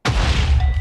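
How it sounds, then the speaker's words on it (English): Firework blasting off in Minecraft, a single sudden loud boom with a sharp onset and a rumbling tail that fills the whole short moment. "Fireworks goes off."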